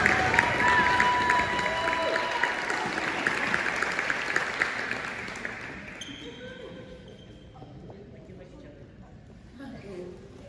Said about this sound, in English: I'd like to give one last round of applause for our sophomores